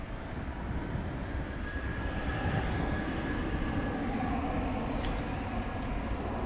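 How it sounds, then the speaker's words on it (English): An American Airlines Airbus A320 jet at DFW airport gives a steady, broad engine roar that holds loud and even throughout, with a faint high whine running through it. "This appears to be American 876. It's an Airbus A320."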